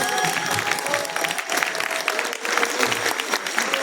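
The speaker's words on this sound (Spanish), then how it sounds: "Un fuerte aplauso para el doctor." An audience at a book presentation gives the speaker, a doctor, a warm round of applause: dense, continuous clapping from many people, fairly loud and close, with faint voices and a few tonal sounds in the background.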